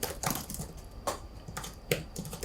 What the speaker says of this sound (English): my new favorite mechanical keyboard